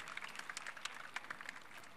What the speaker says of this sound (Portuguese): Uma salva de palmas para essa pergunta